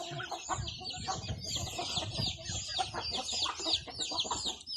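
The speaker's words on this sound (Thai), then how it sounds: "นี่ชุดนี้ไก่สามเดือนครับ" Three-month-old fighting cock chicks cluck and chirp steadily at close range, a dense, busy chatter of many young birds with high peeping calls layered over lower clucks, with no talking.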